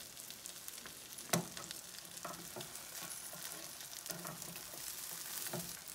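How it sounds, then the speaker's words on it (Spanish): A Spanish tortilla mixture fries in a pan over medium heat, giving a steady, quiet sizzle with faint crackles and one sharper pop early on, with no talk. "Baja el fuego a mediano y cocina por 8 minutos. No revuelvas, pero unta la mezcla en el sartén."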